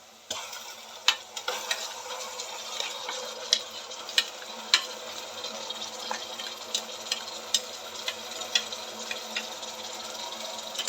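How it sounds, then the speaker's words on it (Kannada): Ground green chili, ginger and garlic paste fries in hot oil for chicken biryani, a steady close sizzle broken by sharp clicks and taps of stirring, with no voices. "ಇದು ಹಸಿ ವಾಸನೆ ಹೋಗೋವರೆಗೂ ನಾವು ಫ್ರೈ ಮಾಡ್ಕೋಬೇಕು"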